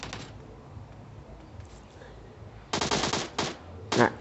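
Video-game gunfire as bots are shot: a quiet stretch, then a burst of rapid automatic fire, a short second burst and a final sharp volley, each loud and close.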